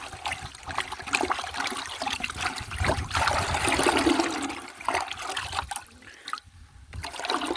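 A hand stirs goat manure fertilizer into a container of water, making continuous sloshing, swishing and trickling sounds with brief pauses, close and fairly loud with no talk.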